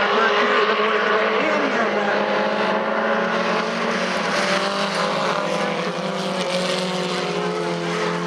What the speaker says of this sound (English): Racing here at Northport International Raceway